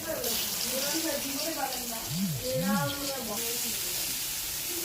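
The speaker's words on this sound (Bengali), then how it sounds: "বেগুনগুলো ভাজা নিতেছি, মাছগুলো আগে ভাজা রাখছি, আর বেগুনগুলো ভাজা নিলাম।" Brinjal pieces fry in hot oil in a pan with a steady, close sizzle, while a voice murmurs faintly in the background.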